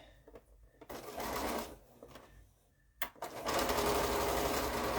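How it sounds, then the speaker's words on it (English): A sewing machine chain-pieces quilt pieces, whirring in stitching bursts separated by short pauses, then running steadily and loudly close by. "so that I can just chain piece at the machine"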